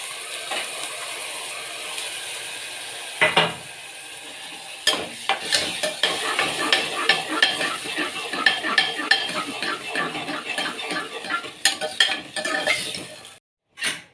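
Tuvar dal tipped into hot tempering in a Gujarati home kitchen, with a spoon scraping and clattering against the pot over a soft sizzle, in irregular bursts of stirring, a sharp knock near three seconds, and no talking.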